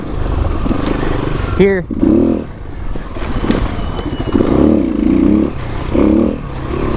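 A 2021 Kawasaki KLX300 dirt bike engine bogs and then picks up as it pulls out of a corner off road, a loud, steady rumble that rises and falls, with someone talking over it.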